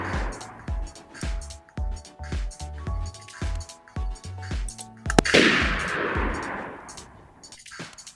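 Gunshots in the Roblox video game, a run of sharp repeated shots followed by a louder burst, over a steady rhythmic game soundtrack.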